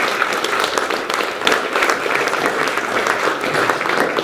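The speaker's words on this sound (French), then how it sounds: "si vous pouvez applaudir" An audience at a crowdfunding conference gives steady, dense applause, a loud and even wash of many hands clapping together for several seconds without talk.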